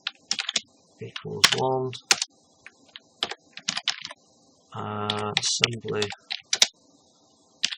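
Computer keyboard keys clicking in quick irregular bursts as code comments are typed, close and crisp, with someone speaking in between and over the typing.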